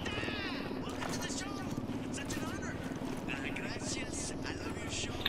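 A helicopter in the tactical shooter Ghost Recon Wildlands drones with a steady, throbbing rotor chop that stays loud and continuous throughout, with voices talking over it.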